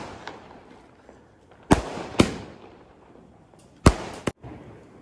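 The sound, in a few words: Diwali firecrackers bursting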